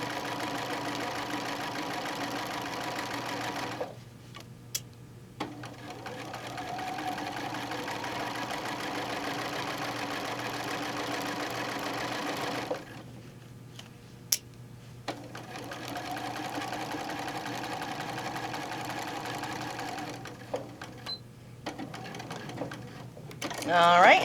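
A sewing machine runs close by while top stitching a placemat, a steady whirring motor with two short stops partway through before it resumes.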